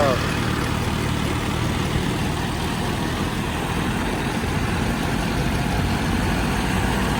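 A tractor engine idles steadily in Jammu and Kashmir, a continuous low rumble with a dense mechanical drone that holds unchanged throughout.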